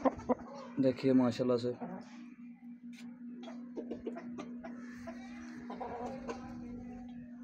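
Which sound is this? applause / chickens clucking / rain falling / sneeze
chickens clucking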